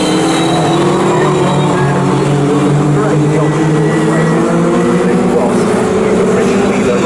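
Classic racing cars circuit at Snetterton in a CSCC Mintex Classic K Series race, engines droning steadily and loud throughout, with a commentator talking over the noise.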